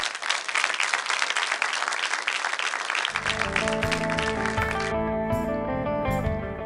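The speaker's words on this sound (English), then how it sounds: "A round of applause to our panel." An audience applauds a business talk-show panel, loud continuous clapping that runs throughout, with music rising underneath in the second half.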